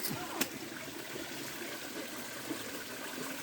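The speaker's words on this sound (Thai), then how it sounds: "น้ำตกครับ" A small waterfall rushes behind a rubber plantation, a steady broadband wash of falling water with a couple of sharp knocks, fairly faint and distant.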